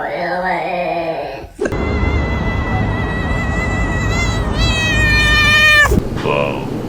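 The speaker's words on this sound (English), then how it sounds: "ranking weird cat sounds." A cat lets out a string of strange, drawn-out meows and caterwauls, loud and close, the wavering cries shifting in pitch over steady background noise with a brief higher call at the end.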